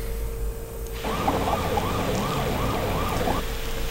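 Police car sirens in the Sonic Adventure video game wail in a fast repeating up-down pattern for a few seconds, loud and close, over a steady background hum, then cut off.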